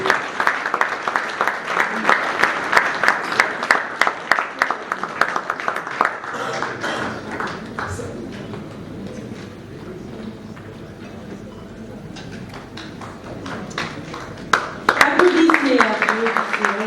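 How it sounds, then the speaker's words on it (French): Audience applause at an awards ceremony as a community initiative prize is presented: a dense patter of clapping in the opening seconds fades under a speaking voice, then swells again briefly near the end. "Applaudissez, encouragez."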